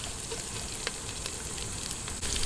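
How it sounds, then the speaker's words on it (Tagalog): Onions sautéing in a pan for chicken arroz caldo: a steady, fairly quiet crackling sizzle with a few sharp pops and stirring clicks, no talking. "gisa-gisahin lang po natin hanggang sa medyo lumambot na yung sibuyas"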